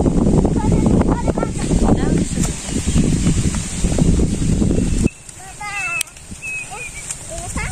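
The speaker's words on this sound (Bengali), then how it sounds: "এই যে বাতাস, গাছের ডালপালা কিরাম করতেছে বাতাসে।" Wind blows through tree branches in a village field, a broad steady rushing rustle for about five seconds that then drops away to a quieter background with faint chirps, with voices in the background.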